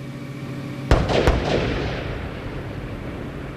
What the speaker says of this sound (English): Twin sonic booms as Columbia has gone subsonic